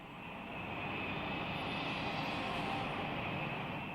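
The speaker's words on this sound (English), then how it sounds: "Japanese planes head for the Philippines" Japanese warplanes flying from Formosa toward the Philippines in wartime, a steady, loud droning engine roar that swells slightly and holds throughout with no other sounds.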